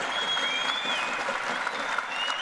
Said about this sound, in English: he wanted a big applause for every Serbian fighter, regional fighter that's fighting on the fight card on Saturday night